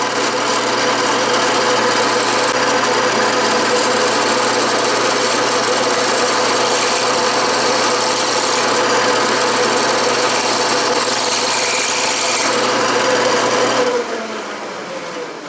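A metal lathe bores out a steel set screw with carbide cutters, a loud steady machine whir and grinding cut running continuously before easing off as the cut ends.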